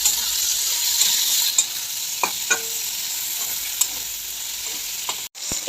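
Vegetables stirred in a pan of melted fish oil give a loud, continuous sizzle close by, broken by a few sharp spoon scrapes and clacks against the pan.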